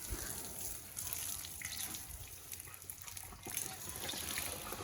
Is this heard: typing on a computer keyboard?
no